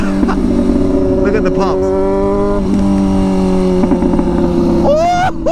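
Kawasaki ZX6R motorcycle with a straight pipe exhaust idling loudly up close with sharp, high-pitched revs near the end, while excited voices talk over it.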